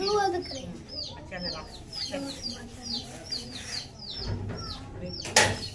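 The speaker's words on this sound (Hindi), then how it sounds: "नीचे जी मुर्गी जो है ना हमारी, वो मुझे बहुत ज्यादा तंग करती है।" A hen clucks repeatedly in a rural village yard, a rhythmic stream of close, chirpy clucks over a background hum, with a brief sharp knock near the end.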